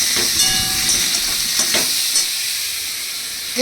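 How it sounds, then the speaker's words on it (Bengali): Potatoes sizzle steadily in hot oil up close, with a few stirring scrapes near the start before the frying settles into a constant hiss. "এবার এইটাকে ভালো করে ভাজা করে তুলে নেবো।"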